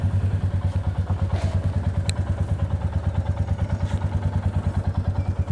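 A motorcycle engine running steadily up close, its even thumping pulse holding throughout as the bike sets off on a ride from Tiruchengode, with faint clatter and no talk.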